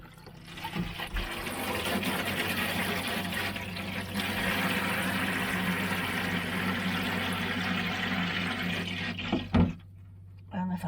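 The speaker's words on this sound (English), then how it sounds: "And the shower, that works too." A shower runs in a camper van, a steady close rush of water for about nine seconds before it is shut off, ending in a brief clunk and near silence.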